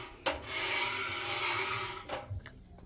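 The drum of a faulty Hoover H-Wash 300 Pro washing machine, showing an E20 pump fault, gives a sustained close rasping rub for about two seconds, with scraping bursts at either end and no voices.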